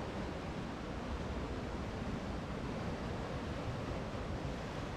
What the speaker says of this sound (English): water breaking on the far side